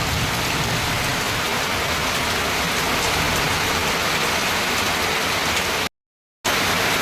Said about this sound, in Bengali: বিশাল বৃষ্টি হচ্ছে ওই দেখো কেমন বৃষ্টি হচ্ছে